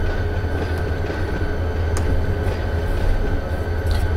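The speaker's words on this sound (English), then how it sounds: "So we see you got a train coming in." A train rolls in within a train simulator game, a steady low rumble of wheels and engine with faint rail clanks, heard alone.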